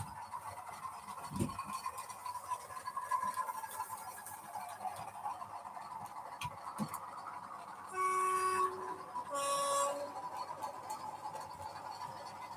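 A model train runs around a layout with its sound turned on, giving a faint running rumble with a few clicks, then two sustained horn blasts in a row.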